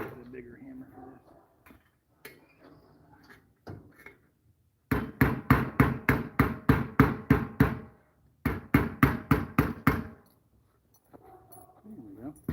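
Metal is hammered in two quick rapid bursts of loud, ringing blows close by, with scattered talk and quieter sounds before and after.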